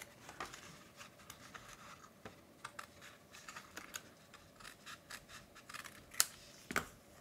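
Scissors cut through the flap of a paper box, making a steady series of close, crisp snips and small scrapes, soft overall with a couple of sharper cuts near the end.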